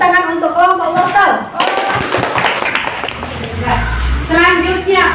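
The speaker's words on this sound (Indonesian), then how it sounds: "beri tepuk tangan untuk kelompok wortel" A classroom of sixth-grade students claps for a presenting group, a short burst of hand claps in the middle, with a teacher's voice before and after it.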